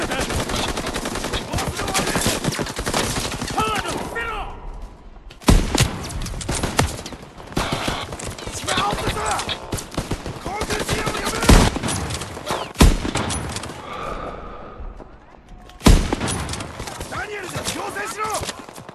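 Rapid bursts of gunfire from a World War II Battle of the Bulge battle in Call of Duty WW2, loud and dense with several sharp individual shots, with a player talking over the firing.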